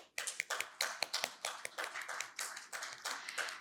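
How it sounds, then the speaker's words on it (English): Audience at a panel discussion on data privacy in lending clapping for the moderator, a close, dense burst of many hands with sharp irregular claps throughout, no voices. "Can we please have a huge round of applause for him?"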